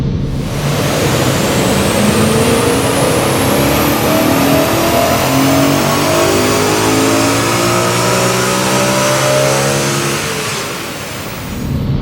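A BMW E92 M3 engine with 152,000 miles revs hard on a dyno and steadily climbs in pitch under load for several seconds, loud and continuous, then drops off near the end.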